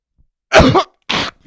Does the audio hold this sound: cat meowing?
no